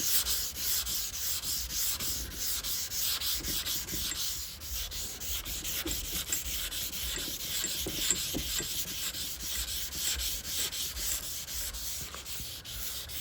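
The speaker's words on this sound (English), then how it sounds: "you're just gonna sand these spots down and see if there's any high or low spots" Body panel spots on a 1971 Plymouth GTX are hand sanded in steady, continuous back-and-forth strokes, a close, raspy scratching that runs throughout with no talk.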